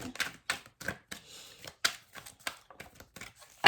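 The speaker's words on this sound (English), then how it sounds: "I just do a little bit of shuffling on camera for you" Tarot cards are shuffled close by in quick, uneven bursts of papery slaps and riffles.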